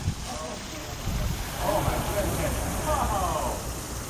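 A water fountain in a town square in Chelsea, Michigan gives a steady, soft splashing wash in the background, with a person talking over it.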